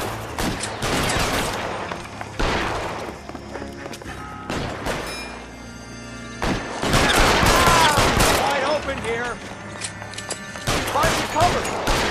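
Repeated gunfire bursts from a shootout in the video game L.A. Noire, loud and close, mixed with footsteps, thuds and shouting voices across the scene.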